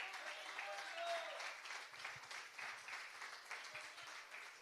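Church congregation clapping in praise during a worship service, a faint, steady patter of many hands that continues throughout, with voices speaking over it.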